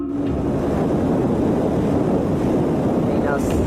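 Strong wind on a night in Spain buffeting the microphone, a constant loud roaring rush with no letup throughout.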